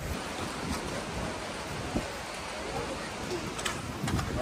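A Yosemite waterfall roars up close in a broad, steady wash of rushing water and spray, with wind buffeting the microphone and a few faint knocks.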